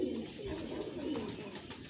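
Fancy pigeons kept in a loft coo softly in short, low, throaty calls that rise and fall against a quiet background.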